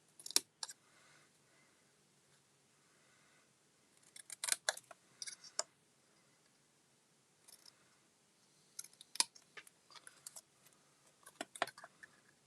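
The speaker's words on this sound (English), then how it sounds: "I'm going to take my snips and we're going to make this into a nice little banner on both ends." Metal snips cut through a paper banner for a holiday card in several short bursts of crisp snipping, with quiet pauses between the cuts and no voices.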